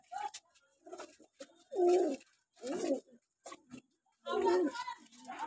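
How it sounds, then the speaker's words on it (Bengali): Racing pigeons coo in several low, throaty bursts close to the microphone, spaced irregularly with brief quiet gaps, while faint voices murmur in the background. "সব রেসিং পাখি আছে।"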